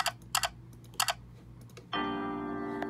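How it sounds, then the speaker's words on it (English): Computer clicks from playing the Fetch! with Ruff Ruffman video game, with several sharp, closely spaced taps followed by a sustained electronic game tone. "I click through these really fast"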